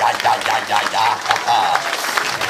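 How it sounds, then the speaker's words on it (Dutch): An audience applauds at a live event as a performer is introduced. Loud, fairly close clapping pulses throughout over a steady low musical hum, with faint voices mixed in. "daar moet een applaus gehad"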